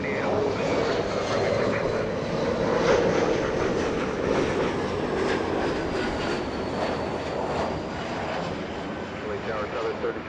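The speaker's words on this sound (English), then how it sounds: "Delta 2569, That's the longest version of the 75, a 757-300." Delta Boeing 757-300 airliner at Los Angeles International Airport, a steady broadband jet engine roar holding loud and continuous throughout, with faint voices in the background.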